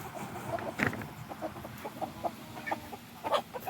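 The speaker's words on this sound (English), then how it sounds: "Whoa, stepping on a chicken." Chickens, Silkies among them, cluck in short scattered bursts close underfoot in an autumn chicken run, with soft intermittent calls over a low background.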